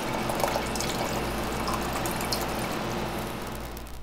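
Chilled red wine sangria with fruit poured into a glass, a steady continuous liquid splash and trickle that runs the whole time at close range, with no talking.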